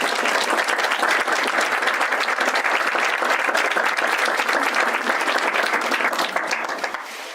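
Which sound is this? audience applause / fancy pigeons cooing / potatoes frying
audience applause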